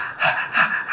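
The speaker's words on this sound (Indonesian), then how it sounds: "Tarik nafas, buang." A stroke patient takes a deep breath in and out during a therapy session, two close, breathy airy swells, fairly loud and near, with no words.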